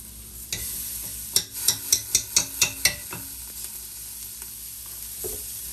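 Quinoa pours into a hot pot for bean chili, giving a close, bright rattling sizzle in about seven quick bursts, then settling into a low steady frying hiss.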